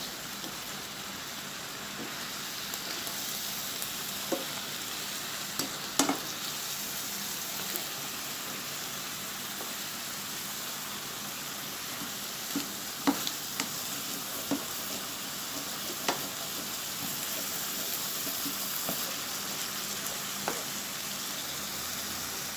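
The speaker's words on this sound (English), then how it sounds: "The pak choi are almost finished cooking." Pak choi and mixed vegetables almost done cooking in a pot, a soft, even sizzle and bubbling with a few sparse light clicks and taps, quiet throughout and with no voices.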